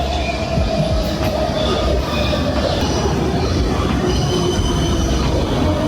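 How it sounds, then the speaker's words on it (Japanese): A shallow subway train in Brussels, Belgium, rumbles loudly nearby as it arrives, its wheels letting out thin, sustained metallic squeals over the steady roar of the cars rolling in. "めちゃ浅い地下鉄。"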